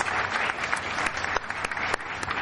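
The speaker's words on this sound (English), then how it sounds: "I request you all to carry our thanks with a loud applause" Audience applause at an accounting lecture meeting, a crowd clapping continuously with a few sharper individual claps standing out, moderately loud and without speech.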